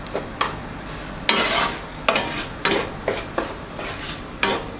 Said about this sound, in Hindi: सबको तकरीबन 1-1 मिनट तक इस तरह से आपने इसको फ्राई करना है।